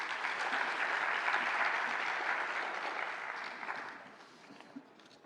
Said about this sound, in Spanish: Con un fuerte aplauso, por favor.